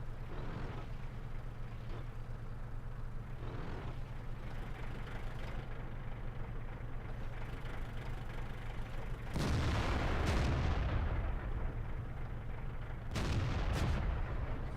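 Tank guns fire in the World of Tanks video game, two heavy booming shots over a constant engine drone, followed by rumbling decay.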